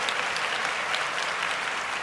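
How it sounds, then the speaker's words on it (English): Steady, dense applause from a studio audience during a football talk show, even and sustained with no voices rising above it. "Man, give us a round of applause"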